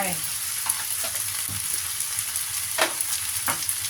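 Ham stir-fried with rice noodles in a hot pan, a steady close sizzle with occasional scraping stirs of the spatula and no talking.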